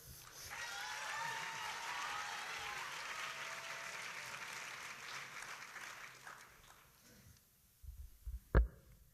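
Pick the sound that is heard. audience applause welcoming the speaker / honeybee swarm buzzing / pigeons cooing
audience applause welcoming the speaker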